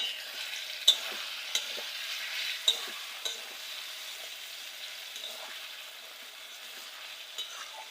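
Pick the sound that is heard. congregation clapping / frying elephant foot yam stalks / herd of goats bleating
frying elephant foot yam stalks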